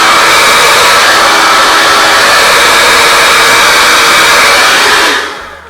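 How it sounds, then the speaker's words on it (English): A hair dryer on its cool setting blows on wig glue with a loud, close, steady rush of air, then switches off and winds down at the very end. "have the hairdryer on the cooling part so it's not hot air because that could burn your skin"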